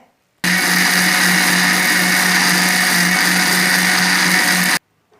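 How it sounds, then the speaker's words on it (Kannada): A mixer grinder grinding masala whirs loudly and steadily for about four seconds, starting and stopping abruptly, with no voices. "ಮಿಕ್ಸಿ ಪಾಡು ನಮ್ಮ ನೈಸ್ ಮನ್ಪುಗೈತೆ"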